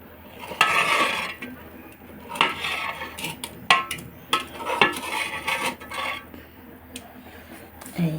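Cooked greens are served from a pan into a bowl, with scattered metallic scrapes and clinks of a utensil against cookware, irregular and close, and no voices.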